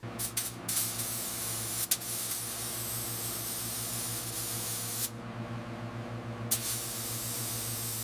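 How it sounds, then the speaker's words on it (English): A steam cleaner hisses steadily on old grease caked on a 1914 Wisconsin inline four-cylinder engine from a Stutz Bearcat, a loud close continuous spray broken by a few brief cutoffs and restarts. "The steam will break down all this old grease."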